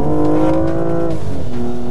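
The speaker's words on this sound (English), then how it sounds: "Engine doesn't sound half bad either." A BMW M235i engine pulls hard under acceleration, a loud, steady, close-up rising drone with strong harmonic tones that shift slightly midway as the revs change.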